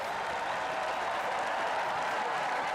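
Applause from a huge crowd of about fifty thousand singers and listeners at the 2018 Latvian song festival, a dense steady roar of clapping filling the whole stretch, loud and unbroken.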